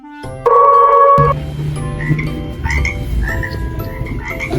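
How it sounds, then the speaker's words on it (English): A frog croaks in loud, repeated calls, followed by a run of shorter chirping croaks over a steady low background. "Frog."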